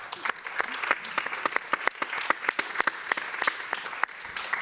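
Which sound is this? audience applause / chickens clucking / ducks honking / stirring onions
audience applause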